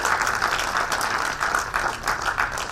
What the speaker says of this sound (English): A round of applause for Evan K. Saju, please.